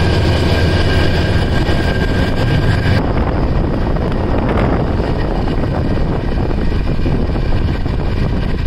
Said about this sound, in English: train is moving through these salt pans